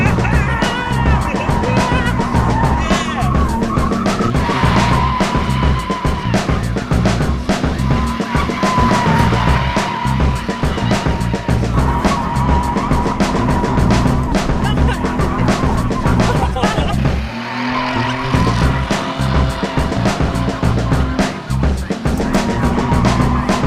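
A JDM car driven hard, its engine roaring loud and close throughout while the tires skid and squeal almost continuously, with a short break in the middle before the screeching resumes.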